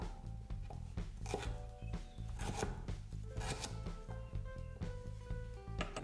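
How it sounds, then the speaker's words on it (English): Knife roughly chopping peeled ginger on a board, quick irregular close knocks repeating throughout, fairly quiet with no talking. "Just roughly chop the ginger."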